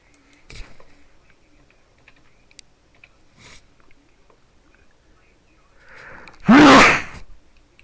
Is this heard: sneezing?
yes